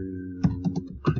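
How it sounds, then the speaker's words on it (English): Keys tapped on a computer keyboard while entering a search, a few close clicks in two short bursts over a steady low hum. "So let me just type in how to"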